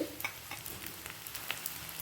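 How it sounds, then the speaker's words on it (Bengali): Chopped garlic and ginger hit a pan of lightly browned onion for an egg tarka, giving a steady close sizzle with a few soft stirring scrapes and no talking. "হালকা লাল করে ভাজা হয়ে গেছে এই সময় দিয়ে দিচ্ছি রসুন কুচি আর আদা কুচি"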